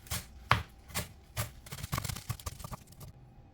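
A knife chops through callaloo leaves and stems on a board, about a dozen close, crisp, uneven thuds, sparse at first and then in a quicker burst before stopping.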